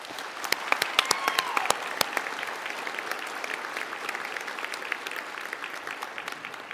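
A large audience at a university health sciences commencement applauds for several seconds, a dense steady patter of many clapping hands in a big hall.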